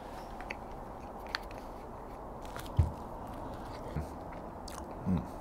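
Someone munches pizza close up, steady chewing with a few crisp, louder bites spaced a second or so apart over a constant background hiss.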